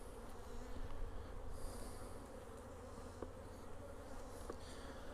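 Honey bees hum steadily and densely around hives while weak colonies are combined. The buzz is continuous and close but fairly soft outdoors, with a few faint clicks.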